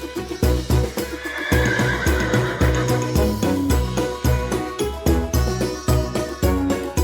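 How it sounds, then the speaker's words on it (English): A horse neighs and whinnies repeatedly on a farm, loud and close, with clip-clop hoof sounds and busy rhythmic background layered throughout. "Horse."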